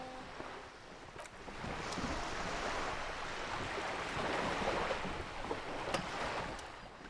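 Flowing water and lapping waves in the video game Disco Elysium, a steady rushing wash with soft splashes and wind-like hiss that holds at a moderate level throughout, with no voices.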